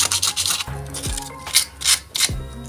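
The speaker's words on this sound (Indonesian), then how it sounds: "Ini kan saya amplas dulu supaya ini sisa-sisa potongannya tidak mengganggu ya" Sandpaper rubs over the freshly cut edges of a PVC pipe in short, uneven scratchy strokes, close by, with a few brief gaps between passes.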